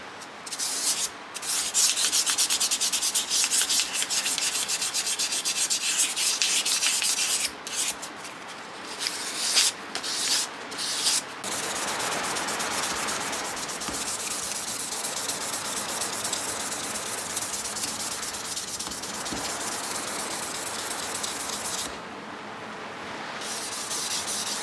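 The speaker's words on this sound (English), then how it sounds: "start sanding with our 600 grit, and just get everything finalized." Steady hand sanding of a knife handle with fine 600-grit paper, a continuous close-up rubbing hiss broken by a few short pauses as strokes change.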